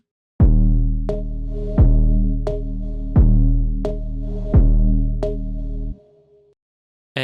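Bass sequence synthesized in Serum: six heavy, deep notes hit in an even pulse, each with a sharp attack and a short decay. They are loud and close, end with a brief tail, and no one speaks over them.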